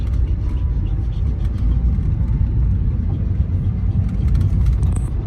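A car being parked at a roadside stop, giving a steady low engine rumble with faint mechanical clicks and shifts, close and continuous.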